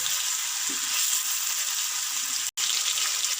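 Chicken pieces with garlic ginger paste frying in a pan, a continuous broadband sizzle heard up close, fairly loud and even, broken only by a brief cut near the end.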